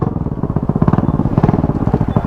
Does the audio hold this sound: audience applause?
no